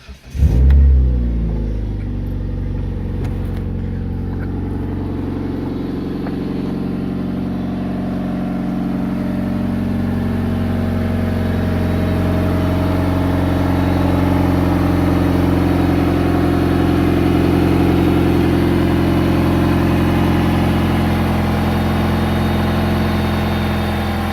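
A 2007 Jeep Patriot engine cranks and fires up, revs briefly, then settles into a steady loud idle that rises slightly during its warm-up, heard up close with no talking.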